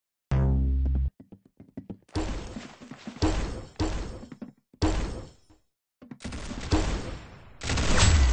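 Gunfire in the Roblox game Arsenal: a loud opening blast followed by bursts of rapid shots and sharp impacts in uneven clusters with short silent gaps, close and dry.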